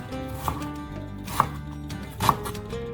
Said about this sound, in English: I start by chopping an onion